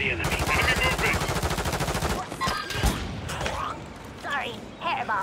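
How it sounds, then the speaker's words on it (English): Gunfire in Call of Duty: Warzone 3, with rapid machine-gun bursts that rattle loudly through the first two seconds, then scattered shots and game noise, while talk carries on over the action. "Taking effective fire."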